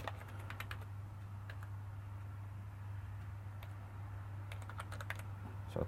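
Typing on a computer keyboard to enter a page title, with light clusters of key clicks in two bursts over a steady low electrical hum and background noise.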